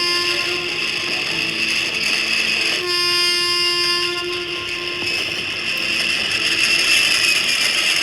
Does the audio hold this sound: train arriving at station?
yes